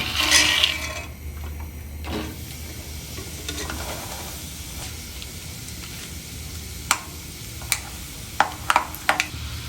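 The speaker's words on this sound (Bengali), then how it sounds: "বাদামগুলো এখন ভেজে নিব" Peanuts fry in hot oil for homemade chanachur, a close sizzle with stirring that starts fuller and settles lower, broken later by several sharp scraping clicks of the utensil against the pan.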